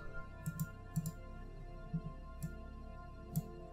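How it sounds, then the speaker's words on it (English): Several sharp, quiet mouse clicks come at irregular intervals, some in quick pairs, over a low background hum. "Oh, that's my mouse click."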